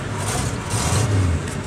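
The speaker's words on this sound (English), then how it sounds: "So we'll just fire her up." An XC GXL car engine just after a cold start, holding a steady, close rumble with a faint rise in revs partway through and no talking.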